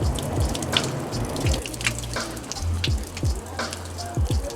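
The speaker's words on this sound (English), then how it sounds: "These are mineral water fountains from thermal baths underneath the city." Close, continuous splashing of warm mineral water running from a thermal-bath fountain in Sofia, with irregular drips and small plops over a watery wash.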